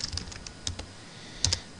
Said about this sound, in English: I'm sorry for my typing.